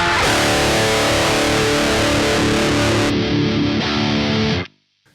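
Heavily distorted electric guitar through a Marshall JCM800 2203KK Kerry King amp plugin, taken direct out without a cabinet impulse response: a loud, fizzy, sustained chord wall with a brief change partway, then abruptly cut to silence.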